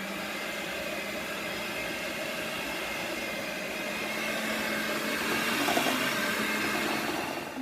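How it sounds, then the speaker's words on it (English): Half a jar of marshmallow cream is mixed into s'more cupcake frosting, with a mixer running throughout. Its continuous whirring, noisy drone is close and even, swelling slightly toward the end. "Added 1/2 jar of the marshmallow cream. Now we're going to mix it together."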